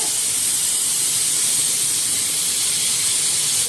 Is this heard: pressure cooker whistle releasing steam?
yes